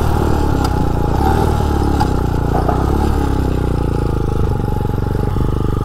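A Motovox mini bike fitted with a dirt bike engine accelerates toward top speed, its small engine buzzing loud and close in a steady, rattly drone with slight rises in pitch and no talking.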